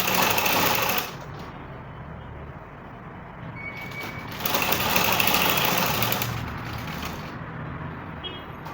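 A sewing machine closing the side seam of a bustier straight gown, loud close running bursts that pause briefly and resume with a slightly varying pitch.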